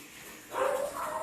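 Dogs at home barking excitedly, a brief burst of a couple of sharp barks at moderate distance, with no talking.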